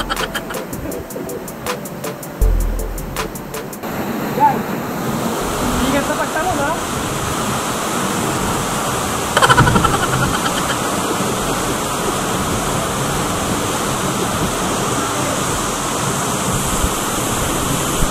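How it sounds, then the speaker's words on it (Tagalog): Roar of water crashing at the foot of Bukal Falls in Majayjay, Laguna, a loud continuous rush heard up close, with some clicking handling noise at the start. "dito naman tayo sa paanan ng falls"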